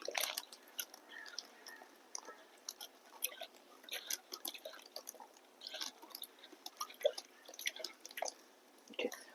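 Microbial compost is mixed into water in a bucket, producing soft irregular wet squishes, drips and splashes, close and fairly quiet, in scattered bursts.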